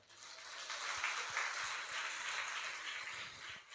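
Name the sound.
congregation clapping during Easter church service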